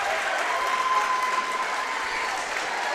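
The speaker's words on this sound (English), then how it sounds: "And the crowd is on their feet" Crowd at a girls' high school basketball game applauds loudly as a player reaches 1,000 career points, dense continuous clapping and cheering that holds steady throughout.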